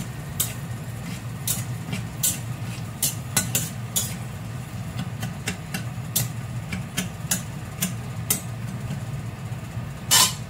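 Peanuts fry in salted oil and get stirred in a pan, with sharp irregular pops and crackles as the shells split, heard over a steady low sizzle and occasional scraping, no one talking.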